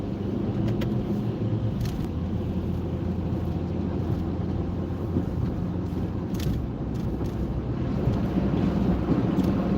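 Car driving through winter slush on a road, a steady loud wash of tire spray and road rumble under a low engine drone, with faint splashing surges and no talk.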